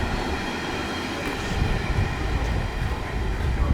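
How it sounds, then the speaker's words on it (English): Train at a station in Gothenburg, Sweden, a loud rumbling roll of wheels and carriages that swells in the second half, with faint clacking over the steady noise. "Yeah, this is a train station we got here."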